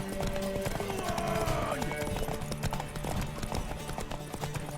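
Horse hooves clip-clopping with a brief whinny in The Witcher 3, steady hoofbeats over continuous game sound, with characters talking at the same time.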